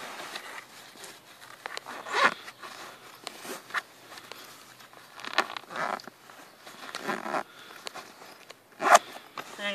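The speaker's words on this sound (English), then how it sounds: "And then you can just zip that shut." A zipper on the headrest pocket of a Jet Tent Pilot DLX camp chair is pulled shut, giving a few brief, close rasping strokes over soft handling noise.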